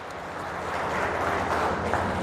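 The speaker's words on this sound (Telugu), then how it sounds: "గట్టిగా చప్పట్లు కొట్టాలి" An audience at a priests' gathering in Warangal applauds in a moderately faint, steady burst of many hands that grows slightly louder as it goes on.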